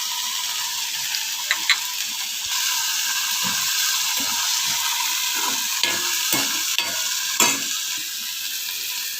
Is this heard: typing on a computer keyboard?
no